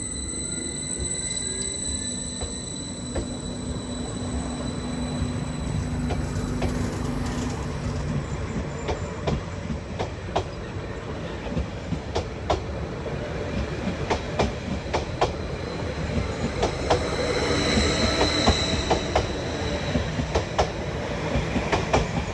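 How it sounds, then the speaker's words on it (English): A Greater Anglia class 745 electric train departs Ipswich station, wheels clacking in a steady rhythm that grows louder and busier as it picks up speed, with occasional squeals. "Now departing is the 1407 Greater Anglia service to Norwich"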